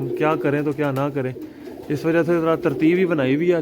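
Pigeons coo steadily at a pigeon loft, their rolling calls continuous and close, while someone talks over them.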